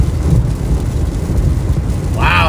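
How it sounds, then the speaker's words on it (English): Deep, rolling thunder rumbles continuously with steady rain during a tornado-warned thunderstorm near Saint Louis, heavy and close throughout. "big time thunder there too"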